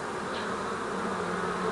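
Honeybees buzzing at a crowded beehive, a steady, soft, continuous drone from many bees close by, with no talk.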